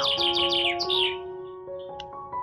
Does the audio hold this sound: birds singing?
yes